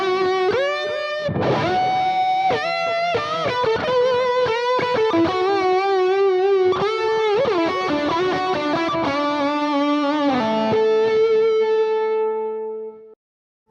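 Electric guitar through a BB Preamp overdrive pedal at very low gain with echo added, playing a sustained melodic lead passage of bent, singing notes that rings out alone and fades at the end.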